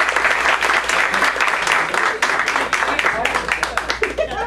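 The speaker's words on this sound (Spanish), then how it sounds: "con un fuerte aplauso iniciamos" Audience applause at an ecumenical forum, a dense, steady clapping from a crowd filling the room for several seconds, with some voices mixed in.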